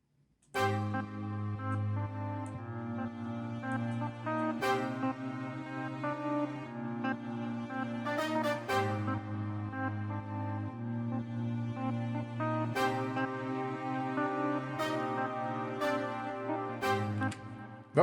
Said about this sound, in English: This is a brush that I used. It's called a brush staccato #1 there.